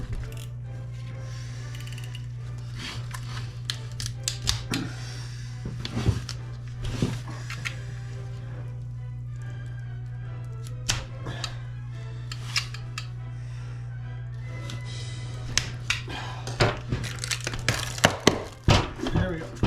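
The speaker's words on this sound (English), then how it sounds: "my bucket's toast anyway, so I'm just going to cut it" Cutting tool chewing through an old worn-out bucket in a workshop, sharp irregular snips and clicks over a steady low motor hum, with occasional louder clanks near the end.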